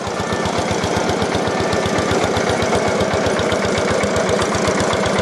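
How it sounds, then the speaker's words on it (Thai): A water well drilling rig boring for groundwater runs steadily, its engine chugging in a fast, even knocking rhythm with a broad mechanical roar, loud and close throughout with no talk. "ตอนนี้ก็คือเริ่มเจาะแล้วพี่น้องนะ"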